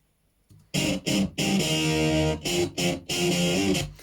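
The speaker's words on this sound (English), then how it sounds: "It's distorted the sound." Heavily distorted music with a thick, saturated tone, played in loud bursts that stop and start several times with short gaps, no voices.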